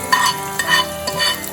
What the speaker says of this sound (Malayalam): ഇനി ഞാൻ ഈ വറവ് ഇതിലേക്ക് ഇടാൻ പോവുകയാണ്, എലിശ്ശേരിയിലേക്ക്.